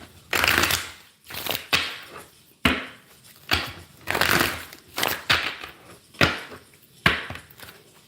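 Tarot cards are shuffled by hand close up, with a steady series of loud riffling bursts and crisp slaps at a brisk, uneven rhythm. No voices accompany them.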